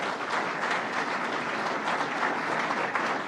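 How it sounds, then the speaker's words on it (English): A crowd applauds steadily at a renovation project announcement held inside Albany International Airport, a dense, even patter of many hands at moderate level with no voices on top. "Let's give a round of applause to Phil."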